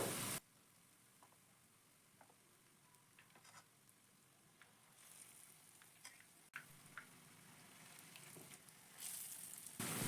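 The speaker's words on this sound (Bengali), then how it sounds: "তেলটা এবার গরম হয়ে গেছে আমি এবার একে একে তেলের মধ্যে ছেড়ে দিচ্ছি" Egg and potato chops sizzle and fry in hot oil, a steady close crackle with brief bursts as pieces go in and oil is spooned over them, with no talking.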